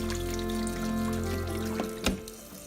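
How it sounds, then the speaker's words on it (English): Cold water from a sink tap runs over fruit in a colander or sieve, a soft steady flow with a brief splashy burst near the end, fairly quiet and without speech. "now I'm going to wash them under a cold sink tap. Just put them all in the colander or sieve, let the tap run and give them a good old clean."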